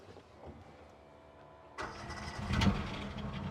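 A Fin Chaser 600 amphibious fishing boat's engine turns over and fires, going from a quiet background to a sudden loud start that settles into a steady idle.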